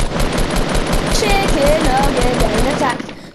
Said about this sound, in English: Just heard gunshots.